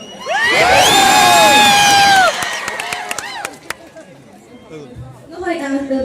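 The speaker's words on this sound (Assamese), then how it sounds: "তেওঁৰ বাবে যিমান পাৰি সিমান চিঞৰ বা হাত চাপৰি হ'ব লাগে" A large crowd at an award ceremony roars with loud cheering and high shouts for about two seconds, then the noise drops into scattered claps, whoops and chatter, with voices rising again near the end.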